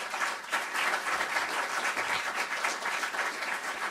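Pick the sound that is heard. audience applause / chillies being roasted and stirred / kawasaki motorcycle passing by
audience applause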